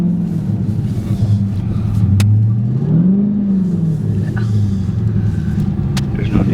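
A Dodge Challenger Hellcat engine with a bad clutch pressure plate revs loudly and steadily, its deep rumble rising and falling in pitch through a couple of swells while the car makes little headway.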